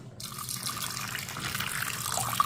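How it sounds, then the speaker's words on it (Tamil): Water pours steadily into a cooker onto butter beans, a close, continuous gushing splash that starts abruptly and keeps going without a break, with no talking. "இதில் கொஞ்சம் தண்ணி ஊற்றிக்கிடுவோம்."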